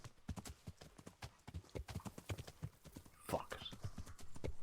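A horse's hooves walking in the medieval game Kingdom Come, steady clip-clop footfalls at an even pace, close and clear, with a faint whinny-like sound partway through.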